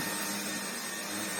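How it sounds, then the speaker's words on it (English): An old Hotpoint Junior vacuum cleaner running on its medium setting, a steady close whirring drone with a constant airy rush and hum, alone and unbroken. "this needs to go on medium, because it just hasn't got the suction power to pull the dirt through otherwise"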